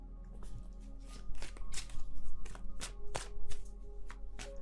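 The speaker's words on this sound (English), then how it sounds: "I'm shuffling them right now" Tarot cards riffle and slap in a series of crisp shuffles, close up and fairly loud, repeating in irregular bursts over a faint steady background hum, with no voices.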